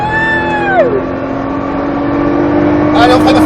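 A Nissan GT-R at full throttle on a race track: a loud engine tone drops sharply, then holds a steady drone before rising again as it accelerates hard near the end.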